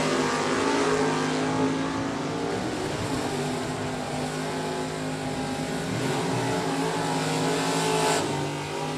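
Super stock drag race cars, one a 1994 Cavalier with an automatic, launching side by side at a Division 3 LODRS meet, a loud continuous engine roar holding steady for several seconds with no speech.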